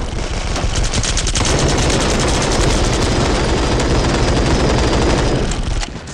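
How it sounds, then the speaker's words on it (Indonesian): Loud, sustained rapid gunfire from an automatic weapon in the video game Jurassic World Evolution 2, a dense continuous burst that runs for several seconds before stopping. "ini namanya pistol perang"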